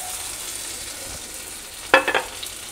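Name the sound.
corn cutlets shallow frying in oil in a kadhai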